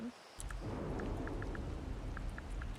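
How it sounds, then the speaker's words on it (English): Outdoors, rain falls steadily with a low rumble of thunder beneath it, and scattered drops tap nearby at irregular intervals; the sound is fairly faint and continuous, with no speech. "I'd really appreciate it if it stopped raining."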